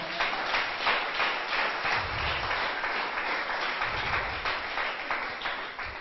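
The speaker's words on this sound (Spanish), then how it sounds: "Démosle un fuerte aplauso al Señor, hermano." Church congregation applauding during a sermon, steady, fairly faint clapping from many hands, with occasional low thumps and a slightly muffled, distant quality throughout.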